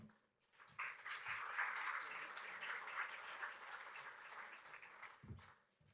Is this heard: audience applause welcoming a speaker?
yes